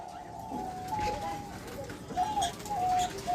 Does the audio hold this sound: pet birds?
yes